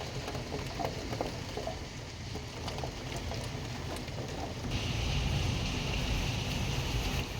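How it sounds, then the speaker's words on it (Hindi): Heavy rain falls at night with a constant dense hiss and patter that swells louder partway through, steady and enveloping without any speech. "इतनी बारिश हो रही है।"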